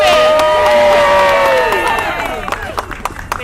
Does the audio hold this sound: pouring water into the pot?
no